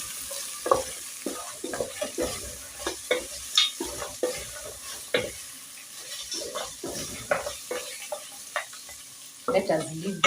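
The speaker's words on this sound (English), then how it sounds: "So we have to burn them in the cooking oil." Beef pieces browning in hot cooking oil for a stew, giving a steady sizzle broken by repeated close clatters and scrapes, fairly loud.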